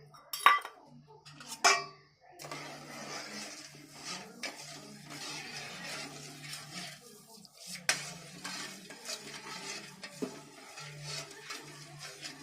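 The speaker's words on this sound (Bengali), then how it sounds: "এক বাটি চিনি দিয়ে আমি শিরাটা করে নেবো" Sugar syrup is stirred in a pan with a spoon. Two sharp metallic clinks come first, then a quiet, steady scrape and swish of stirring continues close by.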